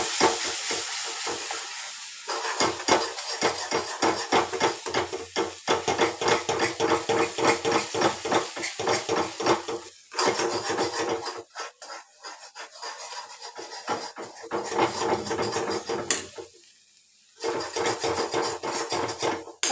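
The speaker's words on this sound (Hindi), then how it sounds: "दही डाल के हमें इसको चलाते रहना है ताकि दही" A spoon stirs yogurt into paneer masala in a pan, with rapid continuous scraping and sizzling strokes close up that pause briefly a few times before starting again.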